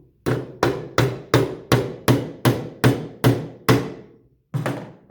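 Sharp, regular hammer blows drive a nail into a wooden birdhouse, about ten evenly spaced strikes close to the microphone, then a short pause and one final hit.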